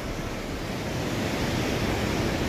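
A mountain river rushes below a roadside on the route toward Jomsom in Nepal, heard as a dense, steady roar of water with wind buffeting the microphone, continuous and loud.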